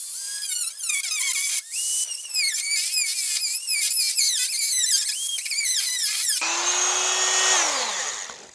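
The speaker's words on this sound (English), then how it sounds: "The reason why I'm using this grinder is because it's easy to maintain and get that nice straight cut." A Dremel grinder whines loudly and steadily while it cuts a 1968-69 Pontiac GTO door panel for flush door handles. The pitch wavers as the cut progresses, then jumps to a sharper high squeal near the end. No voices.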